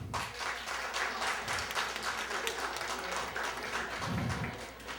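Comedy club audience at a stand-up show applauding, a continuous dense wash of clapping that holds steady for several seconds.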